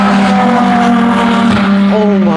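A race car at the Le Mans 24 Hours roars past loudly, its engine note holding steady then sweeping upward as it accelerates away, no voices.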